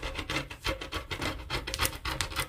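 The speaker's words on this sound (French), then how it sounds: "je vais couper pareil pour que ça me serve de doublure avec le même tissu" Scissors or shears slicing through dress lining fabric, a run of quick rasping, scratchy cuts in a fast uneven rhythm, close and fairly quiet with no talking.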